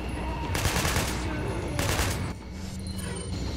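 TMP submachine gun fire in Resident Evil 4, with rapid bursts of automatic shots in quick succession through the short clip, over continuous game background sound.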